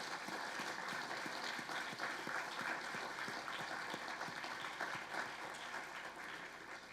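A crowd applauding steadily for students at an engineering awards ceremony, dense clapping from many hands filling the whole stretch at an even, sustained level with no talking.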